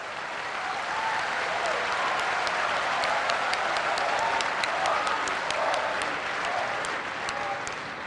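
Loud, dense applause from a large audience at the inauguration of the Surat Diamond Bourse, a steady roar of many hands clapping that holds for the whole stretch and fades slightly at the end.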